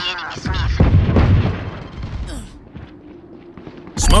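A grenade goes off in Valorant with a heavy, close boom and a rumbling tail, followed by quieter game noise and another sharp burst at the end, while a voice speaks briefly.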